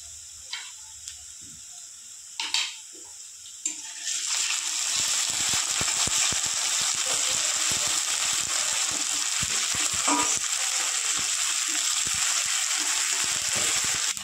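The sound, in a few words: frying ginger and garlic paste in a pan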